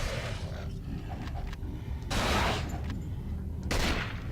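Rifle fire from an AK in the survival horror game Cold Fear, two loud bursts about a second and a half apart over a steady rumbling background.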